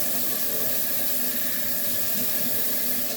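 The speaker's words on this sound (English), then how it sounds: "So you take it and actually whisk the water." Dishes are washed in a sink as water is whisked, producing a steady close hiss of running, sloshing water that continues without pause, with no talking.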